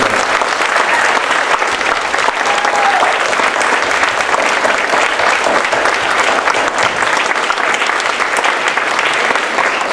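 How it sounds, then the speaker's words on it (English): Loud, sustained applause from the crowd at the 2015 Royal Astronomical Society of Canada General Assembly in Halifax, a close, even roar of many hands clapping for the full ten seconds without a break. "A round of applause, please."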